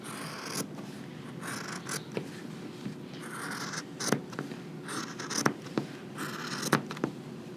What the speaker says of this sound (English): So I'm just going to cut this with my scissors.